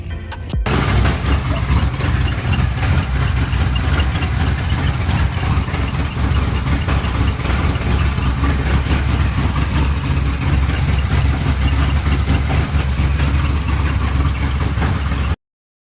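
A Cadillac 500 V8 engine idles steadily and loudly from start to finish, a continuous low rumble with no talking over it.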